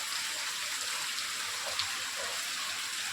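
Heavy rain pouring onto a village maize field, a steady even hiss of falling water with no voices, distant and fairly soft throughout.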